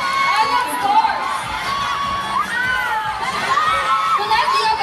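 A concert crowd in Koronadal City shouting and cheering loudly, with high-pitched screams and whoops rising and falling over a continuous roar of voices.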